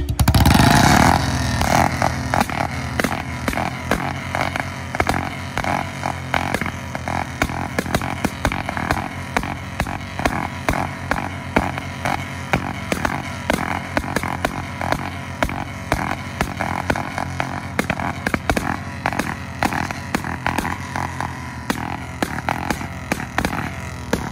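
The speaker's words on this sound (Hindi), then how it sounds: "लग रहा है जैसे BS4 ज़्यादा पटाखे मार रही है" A BS4 versus BS6 motorcycle exhaust with a short bottle silencer, revved hard for close, loud, continuous engine roar broken by a rapid train of sharp backfire pops throughout.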